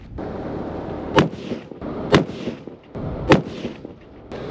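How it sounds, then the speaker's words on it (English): Three rifle shots fired at an outdoor shooting range while sighting in the rifle, each a sharp loud crack spaced about a second apart over steady background noise. "we'll do a little bit more shooting"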